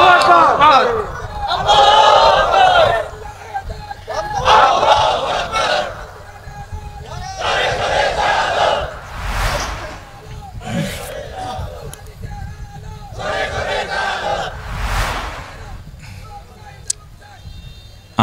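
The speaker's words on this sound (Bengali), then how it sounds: "তাকবীর দাও না রে ভাই।" A large crowd at a Bangladeshi rally shouting the takbir chant in loud repeated bursts, several swelling group shouts spaced a few seconds apart, with someone speaking between them over a microphone.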